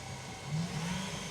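Camaro exhaust note heard from inside while driving, a low, fairly quiet engine drone that rises slightly as the car pulls, steady and smooth with no talking over it.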